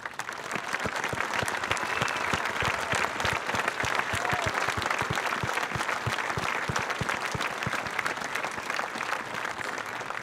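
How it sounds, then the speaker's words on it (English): A large audience at a high school commencement ceremony claps together in a long, sustained round of applause, a dense and even roar of many hands that carries on for about ten seconds with no break. "let's give them all a round of applause for"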